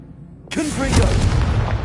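A Confringo blasting curse explodes in a Harry Potter wizard video game: quiet ambience, then one sudden loud, close boom that rolls on as a dense rumble to the end.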